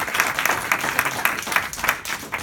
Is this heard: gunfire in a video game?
no